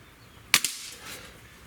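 A Sig Sauer ASP20 break-barrel air rifle fires a single sharp, close shot with a quick follow-up crack and a short fading tail, otherwise quiet.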